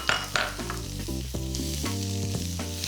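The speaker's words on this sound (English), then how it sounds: "You want to heat up your wok until it's hot, add a small amount of oil, ginger," Ginger and spring onions hitting a small amount of oil in a hot wok, a bright crackling sizzle with a couple of sharp bursts near the start, then a steady fry under a background tonal hum, close up with no voices.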